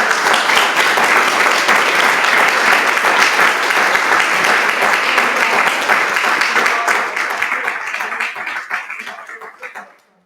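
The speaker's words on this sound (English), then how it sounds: "Now's the time to give the candidates a round of applause." Audience applause for the candidates at a community candidates' forum on complete streets, sustained loud clapping from a room full of people for about seven seconds, then gradually thinning and fading out to silence.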